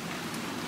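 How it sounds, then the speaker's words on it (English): Heavy rain pours down steadily in a dense, continuous hiss that fills the whole moment with no voices. "The rain poured."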